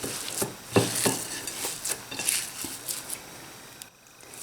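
Kefta meatball mixture with spices and breadcrumbs is worked together in a bowl, giving close, irregular soft taps and squelchy clicks in quick succession before fading near the end, with no talk.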